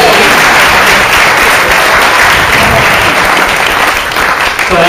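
Wedding guests clap and cheer during the groom's speech at a reception, a dense, loud, continuous burst of applause filling the whole stretch and tapering slightly at the end.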